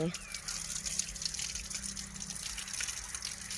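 Water from a hose gushes steadily while rinsing a wound, a continuous close splashing flow with a voice speaking over it.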